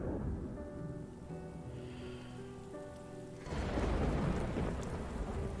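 Steady rain and rolling thunder in a cartoon scene, faint under music at first, then the downpour swells louder and fills the second half.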